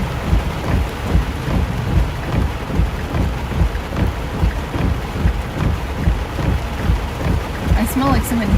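Heavy rain pours steadily through a close thunderstorm during a Texas–Louisiana tornado threat, with deep rolling thunder rumbling beneath the downpour throughout.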